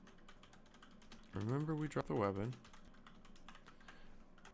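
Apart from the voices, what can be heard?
computer keyboard typing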